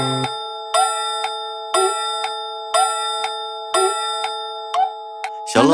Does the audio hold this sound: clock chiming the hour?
yes